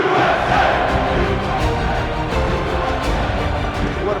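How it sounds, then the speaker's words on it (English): A large stadium crowd at a USA soccer match chants and roars continuously, loud and dense, with rhythmic surges running through the massed voices. "all of a sudden you hear the crowd"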